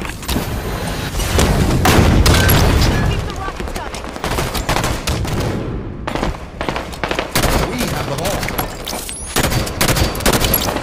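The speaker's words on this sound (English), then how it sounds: "Keep the rockets coming." Rocket launches and explosions ring out in a Halo-style multiplayer match, a dense stretch of booming blasts and sharp bursts broken by a brief lull and then resuming in quick succession, with faint voices in the background.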